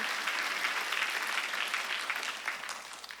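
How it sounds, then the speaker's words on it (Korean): Congregation applauding during a Sunday worship service at a church, a dense, steady wash of many hands clapping that holds through the whole stretch and tapers slightly at the end. "박수"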